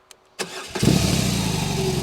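A BMW motorcycle, an R nineT 100 Years or R18 Classic, cranks on its starter button after a couple of faint clicks, catches with a sharp burst and settles into a steady, close, rumbling idle.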